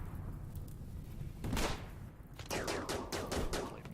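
Dense rattling gunfire from ranged fighters in the colony-management game RimWorld, bursts overlapping in a loud continuous clatter with a brief lull midway.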